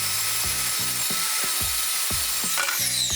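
A saw cuts through plywood to size in a steady series of about seven regular strokes, each with a rasping, ringing edge, loud and close over a constant background hiss.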